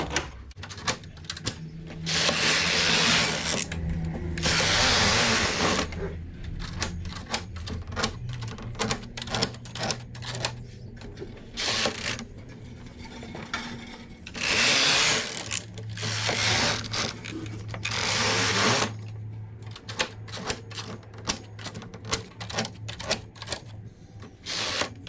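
A flatbed knitting machine knits rows of a lined adult shorts garment, its carriage sweeping back and forth in loud rhythmic clattering passes separated by brief pauses, with no talking.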